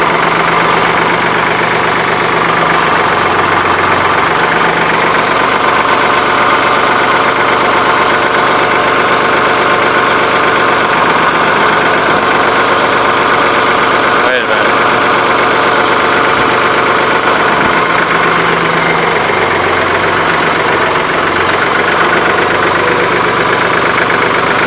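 A 1983 Ford 3910 tractor with a loader idles close up, its diesel engine running in a loud, steady, rumbling throb with slight rhythmic variations throughout.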